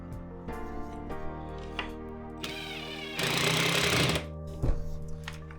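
A power drill drives two tiny screws to mount a small workshop shelf, buzzing in short bursts with a louder sustained whir near the end, over a steady background hum and a few clicks.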